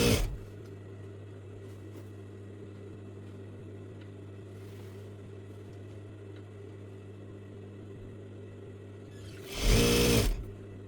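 Sewing machine stitching fabric for an Arabic traditional dress, a steady close motor hum running continuously, ending in a brief louder whirring burst near the end.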